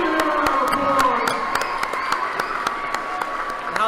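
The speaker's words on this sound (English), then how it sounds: "Let's give him a round of applause." Crowd applause and cheering fill a high school varsity basketball gym, EHS against Alton, a dense steady wash of clapping with scattered whoops throughout, loud and close.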